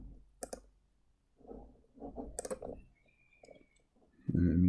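Computer mouse clicks while working in Revit structural software, a few sharp faint ticks among quiet background noise and low murmuring.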